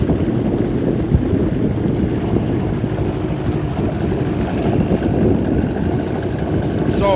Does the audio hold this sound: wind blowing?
yes